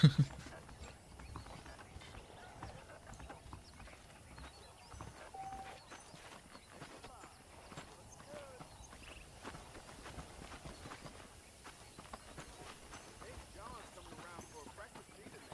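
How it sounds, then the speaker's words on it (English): Steady horse hooves clip-clop at a walking pace in the video game Red Dead Redemption, faint and even, under a low background with occasional voices. "The horses are saddled up over here."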